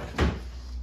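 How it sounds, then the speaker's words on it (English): A wooden drawer in an antique cabin table being pulled open, a single short scraping thud that is close and fairly loud and fades quickly into quiet. "We've got two other drawers here"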